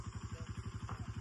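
A motorcycle engine idles close by with a steady, rapid, even thumping pulse, loud and alone, no voices.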